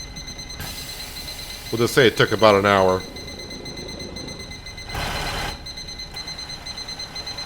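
A household timer beeps in repeated short electronic tones in the background of a room while someone talks over it.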